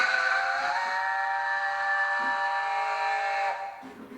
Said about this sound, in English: the good thing is with this model, like, is various different whistles